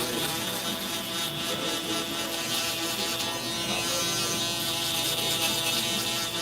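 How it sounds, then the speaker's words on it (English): Steady electric shaver buzz at close range during a fade haircut, continuous and even throughout with no talking. "All right, looking good with our electric shaver step"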